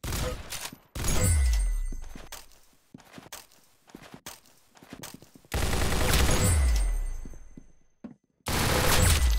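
Video game gunfire in bursts, heavy booming shots and rapid volleys separated by quieter gaps with footsteps and small clatters, the loudest blasts opening, mid-clip and at the end.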